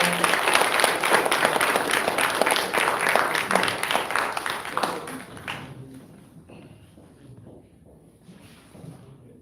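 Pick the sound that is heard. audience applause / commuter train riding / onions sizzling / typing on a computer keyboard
audience applause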